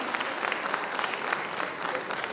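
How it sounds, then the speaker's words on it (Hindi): Steady crowd applause fills a cleanliness award ceremony in Varanasi, dense and continuous hand clapping throughout with no break. "जोरदार तालियों से स्वागत,"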